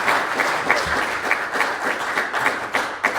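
Sustained applause from a conference audience at a Bitcoin payments event, steady clapping filling the room at moderate loudness for the whole stretch with no voices on top.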